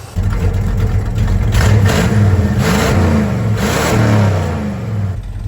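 A car with a 360 engine revs and accelerates hard along back roads, its mid-pitched engine note loud and close, rising and falling through several pulls with no talking.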